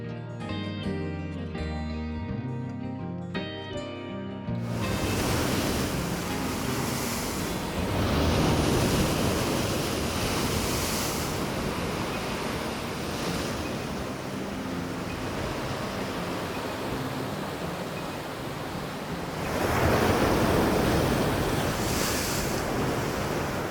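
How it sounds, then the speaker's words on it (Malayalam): After a short musical intro, Arabian Sea waves crash repeatedly against the large laterite wall of a coastal fort. They make a broad, continuous roar with stronger surges and gusty wind noise. "വെട്ടുകല്ല് കൊണ്ട് പണിത കോട്ടയുടെ ഈ വലിയ മതിലേക്ക് അറബിക്കടലിൽ നിന്നുള്ള തിരമാല ശക്തിയായിട്ട് വന്നടിക്കുന്നത് നമുക്ക് കാണാം"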